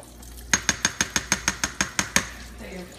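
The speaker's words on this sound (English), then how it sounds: "go ahead and twirl your noodles. You don't want them sticking together" A pot of noodles being stirred and twirled, giving about a dozen sharp, evenly spaced clinks of utensil against metal over a low background hum, with no talking.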